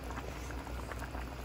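Pocherong pata stew with banana, pork leg and broth bubbles steadily in a pot, a continuous close simmering burble with small popping bursts and no talk.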